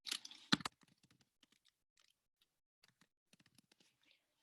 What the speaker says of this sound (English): So I'm going to type in cheating.